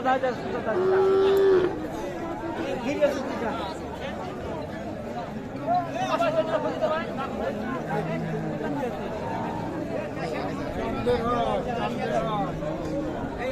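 A cow gives a loud moo near the start amid a busy crowd at a cattle market selling local dairy cows with calves; people chatter throughout, with other animal noises faintly in the background.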